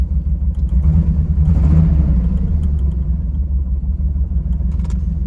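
Old pickup truck engine with a suspected faulty alternator, running at a steady low idle rumble that swells briefly, close and loud, with no talking.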